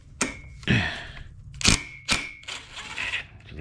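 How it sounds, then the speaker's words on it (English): An impact gun with a 17mm socket removing a castle nut on a Vespa Rally 200 scooter, several short, loud bursts of rattling hammering, separated by brief pauses, close by with no talking. "Use the impact gun to remove it."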